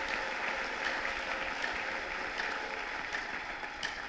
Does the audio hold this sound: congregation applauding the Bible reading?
yes